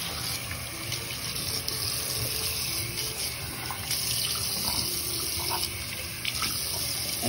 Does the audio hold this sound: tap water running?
yes